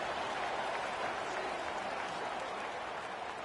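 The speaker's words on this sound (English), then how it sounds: "this crowd is buzzing after that last score" A stadium crowd at an American football game roars and applauds steadily after a touchdown, a dense, continuous wash of cheering heard at a distance without pause.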